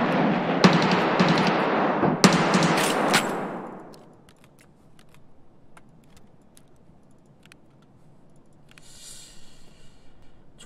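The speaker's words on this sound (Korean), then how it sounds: "총소리로 들어봤을 때" Loud rapid bursts of gunfire in the video game Escape From Tarkov for several seconds, then fading away into near quiet with a few faint scattered clicks.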